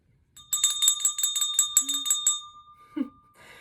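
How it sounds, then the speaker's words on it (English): A small bell from a baby music box jingles in a quick run of about eight bright, ringing shakes, near and clear, followed by a couple of softer jingles after a pause. "in your music box this month, you got a bell"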